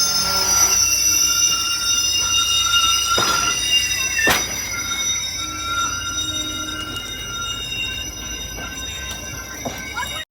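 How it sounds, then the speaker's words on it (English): Sustained high wheel squeal from a passing freight train led by the Monon Heritage Unit locomotive on IO31, loud and continuous with sharp flange screeches and steady rolling rumble underneath. "So here you're going to see the Monon Heritage Unit leading in IO31"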